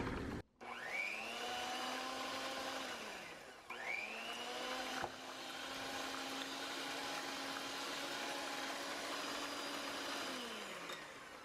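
A handheld electric mixer whirs steadily through thick paper mache clay, its motor pitch dipping and rising under load with brief stops and restarts, close and continuous with no talking.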